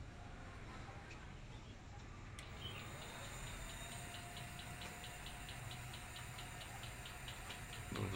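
Repaired electric bicycle motor spinning very fast and vibrating on a new controller, giving a faint, steady whine with a rapid rhythmic ticking that continues throughout and grows slightly louder toward the end.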